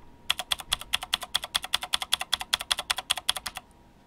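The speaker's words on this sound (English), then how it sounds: "It's a blue switch LED mechanical keyboard" Rapid, crisp clicking of a mechanical keyboard with blue switches, about two dozen sharp keystrokes in a quick steady rhythm, close and alone.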